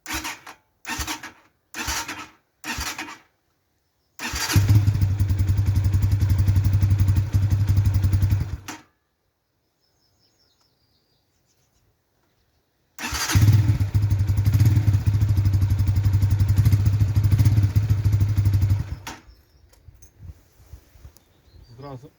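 Musstang Region motorcycle engine cranked on the starter during an oil change without firing, several short bursts followed by two long whirring cranks separated by silence.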